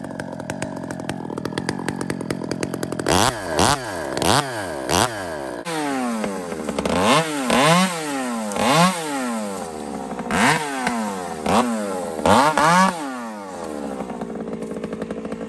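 A Husqvarna Husky 2101 chainsaw idles roughly, then revs hard in a run of rising and falling bursts, loud and close, before dropping back to a sputtering idle.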